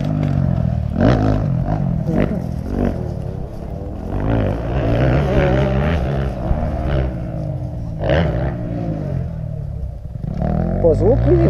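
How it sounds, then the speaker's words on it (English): Four-stroke motocross motorcycles run on a dirt track with jumps, their engines droning and revving loudly from several directions and rising and falling as the bikes pass, continuous throughout with a voice speaking over them. "Zvuk vidim da dosta ima 4T cross motora"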